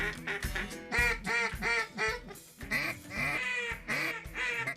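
During a duck hunt in Stuttgart, rapid nasal quacks repeat in close, loud bursts, a long rhythmic run of calls with barely any pause between them.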